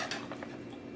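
A knife and other cutlery clink briefly in a home kitchen while a pizza is served: a few quick, light metallic taps and scrapes, faint and close.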